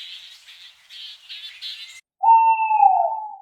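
An owl hoots outside a cave, a single long, clear, wavering hoot that follows a stretch of softer, higher chirping calls.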